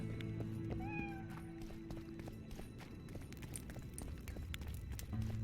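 A cat meows in the Witcher 2 video game, a short rising mew near the start heard over a busy game soundscape of steady ambient noise.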